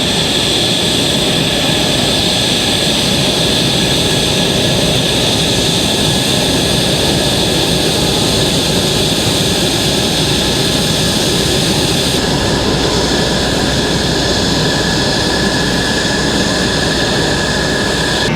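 A USAF F-16 Viper jet at an air show roars steadily and loudly for the whole stretch, a continuous broadband jet engine rush with a slight shift in tone near the end.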